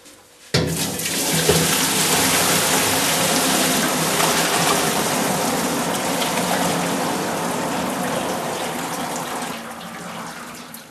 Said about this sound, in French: Je vais donc maintenant les égoutter.